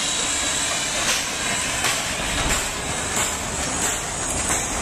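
The Sugar Cane Train of the Lahaina Kaanapali and Pacific Railroad on Maui, Hawaii, a railroad locomotive hissing with steam and clattering steadily close by, loud and continuous with rhythmic chuffs.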